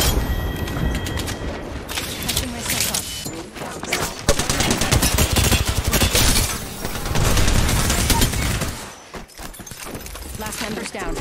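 Dense, continuous automatic gunfire and impacts in the battle royale game Apex Legends, played with mouse and keyboard, nearly unbroken for several seconds before a brief lull and renewed shooting, with speech mixed in.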